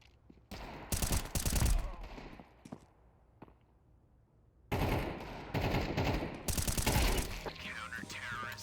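Automatic AK rifle fire in a first-person shooter video game rips out in two loud bursts, split by a quieter stretch with faint mechanical clicks and a voice talking.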